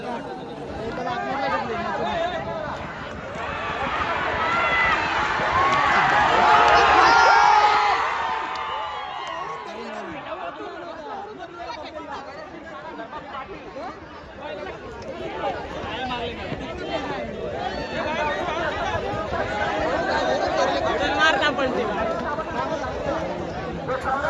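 A large crowd at a bullock cart race mills about with loud chatter, whoops and cheering that swell to a peak and then settle into a steady murmur of babble.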